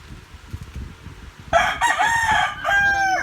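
A rooster, a prized fighting cock, crows once loudly and close by, a long strained cock-a-doodle-doo over faint background rustle and clucking.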